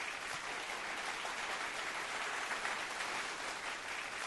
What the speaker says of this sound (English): I want to give a round of applause to our very own Morgan Cunningham